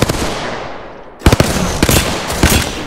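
Gunfire in the Apex Legends video game: after a steady noisy stretch, several sharp, loud shots crack out in quick bursts, close and punchy, with no voices over them.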